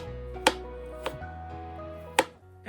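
A knife thinly slices apples for apple strudel on a board: three crisp, separate cuts, well spaced, heard close over a quiet background with a low hum.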